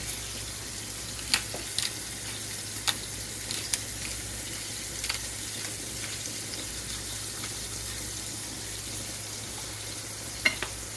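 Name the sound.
seasoned meat patties frying in a pan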